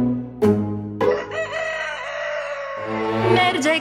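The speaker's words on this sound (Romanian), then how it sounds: "Merge cocoșelul prin grădină. Cucurigo, cucurigo" Cartoon rooster crowing in a Romanian children's song, two loud, drawn-out cock-a-doodle-doo calls set over music.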